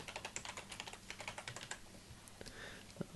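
Typing a note on a computer keyboard, a quick run of close, quiet key clicks that slows and thins out toward the end, with no talking.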